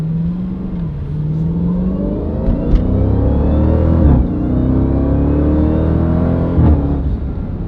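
A Jeep Trackhawk with a loud aftermarket intake revs close up, its engine note rising and falling in repeated sweeps with a whirring supercharger whine over a deep rumble.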